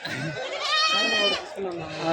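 Young goat kids bleat at a busy livestock market, with several close, wavering cries rising and falling over a crowd of people talking and haggling.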